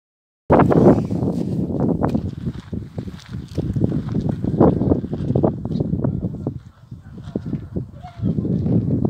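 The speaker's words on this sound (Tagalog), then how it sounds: "Yan, kita niya yan, yung hangin na yan." Strong pre-dawn wind at a winter campsite at Lake Tabeo buffets the microphone in a loud, continuous low rumble, swelling and easing in gusts.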